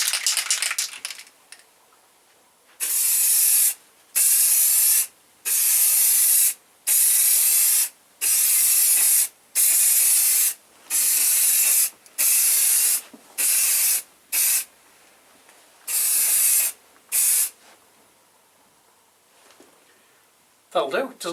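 Rattle-can spray paint hisses onto a Kawasaki Z750R motorcycle radiator guard in a garage, about a dozen close, sharp bursts of roughly a second each with brief pauses between, laying a wet coat.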